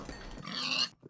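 Short oinking grunt from a pig in the Minecraft video game, a single brief squeal-like call lasting under a second, heard alone at moderate volume.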